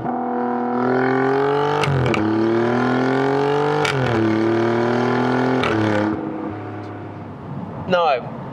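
A 2022 Alfa Romeo Giulia Quadrifoglio engine, toned down by its particulate filter, holds a steady drone with a few brief blips, then settles lower near the end, with talk running over it.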